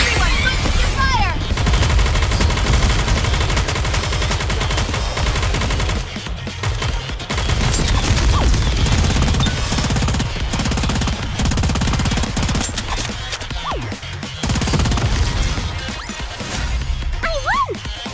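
Heavy gunfire bombardment in the Goddess of Victory NIKKE video game, a dense, loud barrage of rapid shots and blasts that keeps going throughout with only brief dips in intensity.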